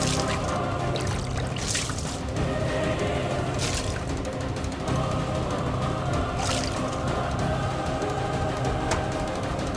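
Water pours in a steady, continuous splashing stream for about ten seconds, with no speech over it.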